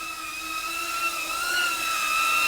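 An OddityRc Mage Pro 3-inch cinewhoop drone carrying a GoPro flies steadily, its propellers producing a continuous high-pitched whine that rises and falls slightly with throttle, close and constant throughout.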